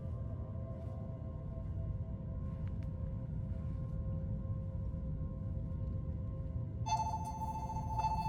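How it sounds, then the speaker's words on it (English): A real telephone starts ringing near the end of a quiet stretch, a faint electronic ringtone with steady tones over a low hum of background noise. "Sorry, that was a phone ringing."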